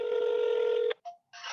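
Telephone keypad dialing tones for a call from a work phone: a steady, loud DTMF-style tone for most of a second, then a short softer beep and a brief burst of noise.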